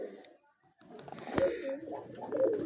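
Pet pigeons on a tin rooftop coo softly up close, a few low rolling coos after a brief lull, with light rustling in between.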